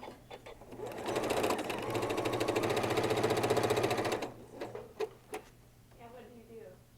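A sewing machine runs a steady rapid stitching burst for about three seconds on a boxed pouch, its rhythm slightly off, then stops with a few clunks and a brief voice afterward.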